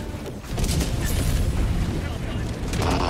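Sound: bomb explosion in the video game Helldivers 2

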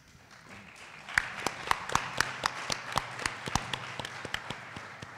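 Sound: audience applauding the panel

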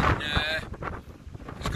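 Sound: strong wind

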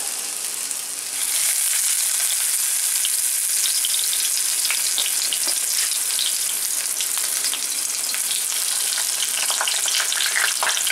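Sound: Thai-style cabbage rolls frying in a pan

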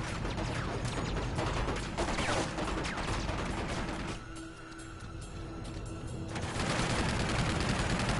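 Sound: AK rifle gunfire in Uncharted 2 video game

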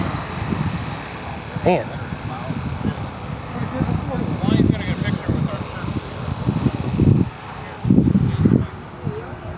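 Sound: HSDJETS twin EDF 90mm Me-262 model jet taking off

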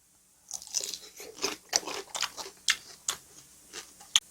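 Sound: eating shrimp, chewing and crunching

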